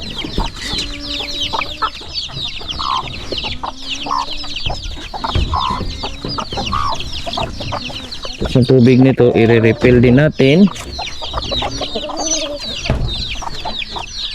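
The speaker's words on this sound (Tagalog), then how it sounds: "Yung mga manok, ito, nag-antay na sila." Chickens cluck and chatter steadily nearby at feeding time on a farm while someone speaks over them, with a louder burst of fowl calls midway.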